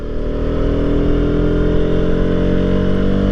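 A Bajaj Pulsar RS200 motorcycle accelerates uphill on a winding road. Its engine drones loud and close in a steady, slowly rising pull.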